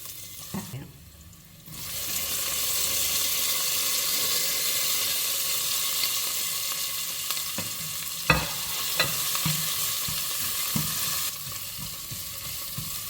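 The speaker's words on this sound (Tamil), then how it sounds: "கடுகு அடிக்குது. 1/4 டீஸ்பூன் ஜீரகம் போடுவோம்." Mustard seeds splutter and crackle in hot oil while cumin, a small piece of cinnamon, garlic and ginger go in for tempering, a steady close sizzle with a few sharp pops and no talking.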